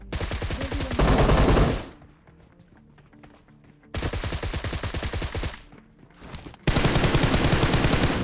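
Loud bursts of automatic gunfire in the mobile game PUBG Mobile, rapid close volleys repeated in three stretches with quieter gaps between them.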